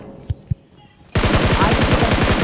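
Rapid automatic gunfire in the mobile battle royale game BGMI, a loud sustained burst after two isolated shots, with faint voices in the background.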